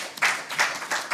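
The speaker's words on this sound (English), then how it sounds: "Applause to our presenter today," Audience applause for a presenter at a customs paper-presentation session, brief bursts of clapping that swell and fade in waves across a short moment, moderately distant and fairly quiet.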